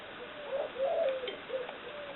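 Soft cooing of doves in the background, a few low, rounded calls repeating at a slow, uneven pace against a faint ambient hiss.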